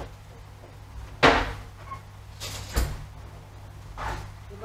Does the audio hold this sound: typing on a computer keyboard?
no